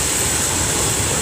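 A long train passes on a railway line, a loud, continuous rumbling roar close by with no pauses or voices.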